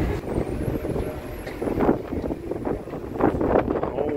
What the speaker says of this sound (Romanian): Oh, ce vânt!